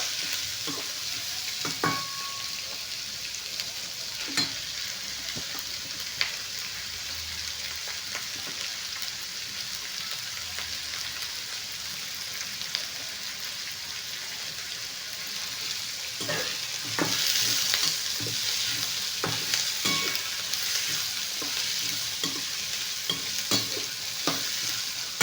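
Chopped large onion, garlic and ginger powder frying in a pan, giving a steady close sizzle throughout with intermittent scrapes and clicks of stirring, no talking.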